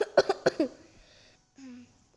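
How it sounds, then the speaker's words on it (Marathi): A person coughs several times in quick succession, short close bursts followed by a brief low throat sound, in a quiet indoor setting. "जरा खोकला आहे."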